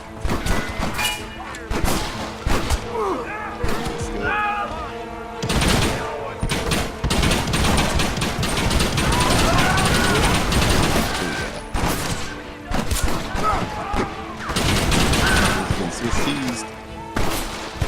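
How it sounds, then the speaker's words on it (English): A Gatling gun firing in the Red Dead Redemption video game, dense sustained rapid fire mixed with crashes, thuds and game music for most of the stretch, with brief voices. "You man the Gatling gun, Marston!"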